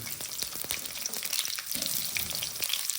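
Onions sizzling in hot oil in a pan with green chilies and bay leaves, a steady close crackle and hiss with occasional stirring clicks and no talk.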